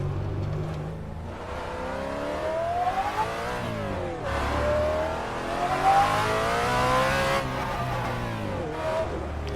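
A Ford Mustang's cross-plane crank V8 pulls hard along a canyon road, its engine note rising and falling through several gear changes, loud and close throughout with no talking.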